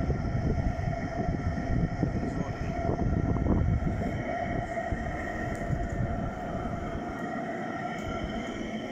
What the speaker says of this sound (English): It's quite a long train, actually.